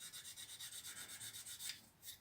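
Rapid, rhythmic back-and-forth rasping of a sanding stick working a joint on a Mitsubishi Zero model aircraft, faint and close, about a dozen even strokes with a brief pause near the end.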